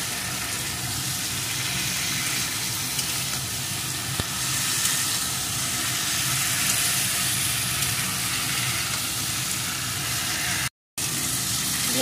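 Okra sizzles and fries steadily in a pan as it is stirred, a continuous hissing crackle with occasional small pops and scrapes, no voices present.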